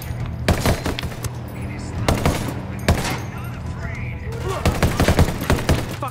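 Gunfire in the tactical shooter video game Ghost Recon Wildlands, with several rapid bursts of automatic fire spread across the clip, fairly loud over a steady low game background hum.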